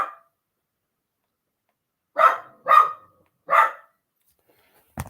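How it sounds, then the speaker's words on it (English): A dog barks three times in quick succession, loud and close, after a quiet pause, with a brief fourth sound cut off at the end, reacting to fireworks going off. "He's barking at everything."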